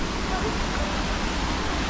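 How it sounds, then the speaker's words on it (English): Cambugahay Falls on Siquijor island pours with a steady broadband rush of falling water, close and continuous, while people talk over it. "So this is the first waterfall, sir."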